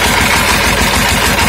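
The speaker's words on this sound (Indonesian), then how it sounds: "untuk pompanya sendiri saya ini menggunakan pompa diesel" A used 20 HP Dong Feng diesel engine driving a secondhand water pump to irrigate rice fields, running loud and steady up close with a dense, continuous rumble and no pauses.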